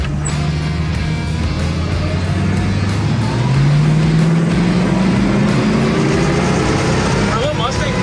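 A 1966 Ford Mustang Coupe engine pulls hard on a test drive, its pitch climbing steadily with a shift partway through, loud and continuous inside the cabin with road noise beneath.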